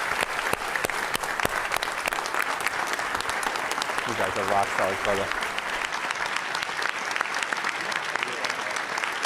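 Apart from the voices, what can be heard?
audience applause at a school board meeting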